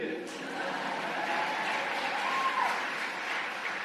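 Thin, tepid applause from a political rally crowd, heard as a low, even wash of scattered clapping throughout, with faint voices beneath.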